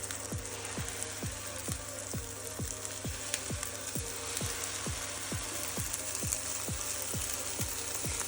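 Carrot and zucchini pancakes fry in a pan with a steady, soft sizzle throughout, under a regular ticking rhythm.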